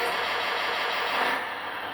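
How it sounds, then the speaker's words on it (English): A small engine on a ready-to-run radio-controlled hydraulic excavator runs with a steady, close buzzing drone that swells slightly mid-way and then settles, heard alone without talk. "and there you go, the engine's on again"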